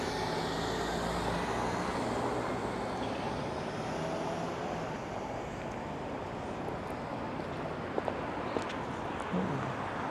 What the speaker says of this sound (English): a car just came barreling down